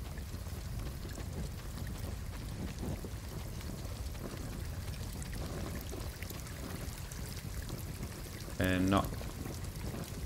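Water pours and flows steadily in Star Wars Jedi: Fallen Order, a continuous rushing wash beneath someone speaking, with a short tonal game sound near the end.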